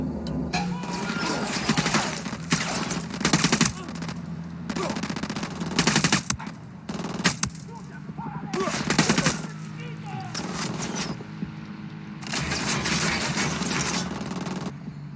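Rapid machine gun bursts rattle loudly and up close in the Ghost Recon Wildlands video game, coming in repeated volleys with short gaps between them.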